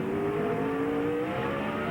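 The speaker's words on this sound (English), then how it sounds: "you might be able to hear the engine when he stands on it" A NASCAR race car engine roaring at the start of a 2001 qualifier race at Charlotte, a loud continuous drone with a steadily rising pitch as the driver accelerates, no talking.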